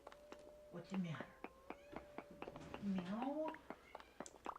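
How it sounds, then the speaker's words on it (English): A cat meows twice, short faint cries heard close against quiet, clicky background sounds, with speech-like murmurs around them. "Cat's meowing."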